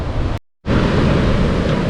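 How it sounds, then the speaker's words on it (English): Ocean waves roll onto a beach at Acadia National Park near high tide, a continuous broad wash of surf mixed with wind buffeting the microphone, briefly cut off by a short silence. "Here's a view out over the water with the waves rolling in."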